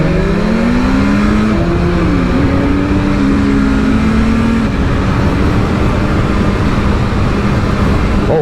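A 2024 BMW S1000RR motorcycle engine with quick shifter and auto blip runs loud and steady from the rider's position, its tone rising and dropping through quick gear changes under constant wind roar, with no talking.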